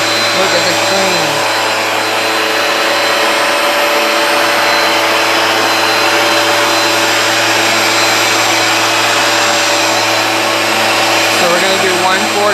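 A Hoover Power Dash carpet cleaner runs over dirty carpet with a loud, steady motor whine and whoosh that continues without a break.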